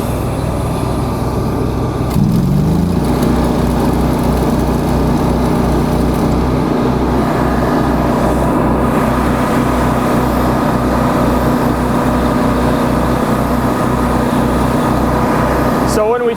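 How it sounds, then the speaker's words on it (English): A Lincoln Ranger 330MPX engine-driven welder drones steadily throughout, loud and continuous, while a one-inch weld is run and a voice talks over it. "So to teach it, we have to run about a 1-inch weld."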